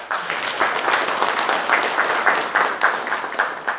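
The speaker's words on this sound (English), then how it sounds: "Give her a clap." A crowd claps steadily at a Red Cross anniversary celebration, a dense, even round of applause filling the space from start to finish, moderately loud with no talking over it.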